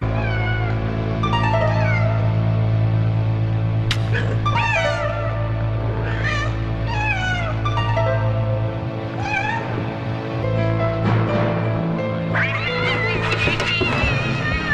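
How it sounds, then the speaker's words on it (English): Loud, drawn-out cat yowls and wailing meows overlap in a recorded catfight, rising and falling continuously over a steady low hum. "they found a bunch of recorded cat fight sound effects"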